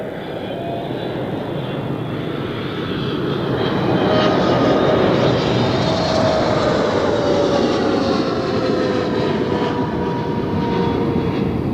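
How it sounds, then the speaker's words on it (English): A Boeing 777 airliner at Zurich Airport gives a loud, steady jet roar that swells after a few seconds and holds, with a slowly gliding whine above, heard from outside with no talk. "first we have a look at the 777 here"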